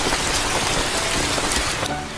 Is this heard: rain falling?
yes